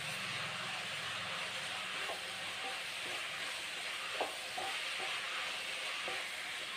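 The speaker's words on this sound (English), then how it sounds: "Give a stir." Chicken biriyani sizzling in a pot, a steady, even hiss of frying with faint scattered stirring clicks, moderately quiet and close, with no voices.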